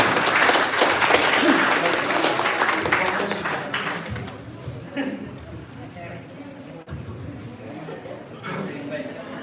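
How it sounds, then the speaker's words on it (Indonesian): An audience at a training session claps loudly for those who asked questions, the applause fading out over a few seconds before a voice speaks over the quieter room. "Kita beri tepuk tangan untuk semua yang bertanya."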